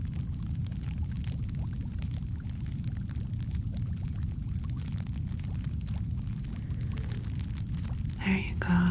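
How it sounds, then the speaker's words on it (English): Liquid pouring and churning in a sci-fi memory wash device: a steady, low, soft rush of flowing liquid with faint ticking continues throughout, and a brief brighter swell comes near the end. "focus on the movement of the liquid in this memory wash device"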